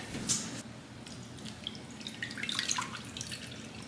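Filtered water running and dripping into a container for bottom watering seedlings indoors, a steady faint trickle with scattered close drips and splashes, no voices.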